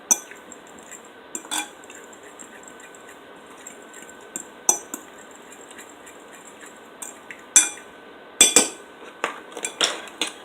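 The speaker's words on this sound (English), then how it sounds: "we're just going to mix these up, combine all these seasonings" A utensil clinks and taps against a bowl while seasonings are mixed, scattered light metallic ticks growing busier toward the end over a quiet background hum.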